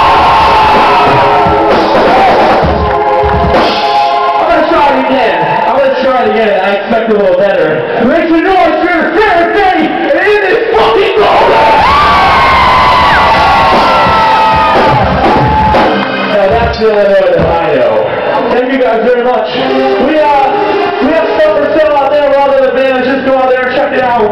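A large concert crowd at a show roars, whoops and shouts continuously, loud and close, with no break in the noise.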